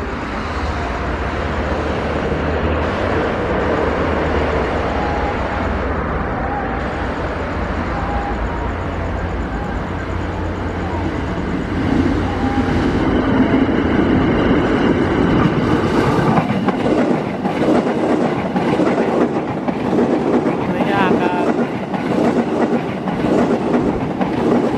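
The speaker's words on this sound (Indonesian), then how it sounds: "KRL 2006 telah diberangkatkan dari Stasiun Sudimara." An electric commuter train rumbles away from Sudimara Station, its low roar growing louder and rougher midway as it picks up speed, with rhythmic clatter from the wheels.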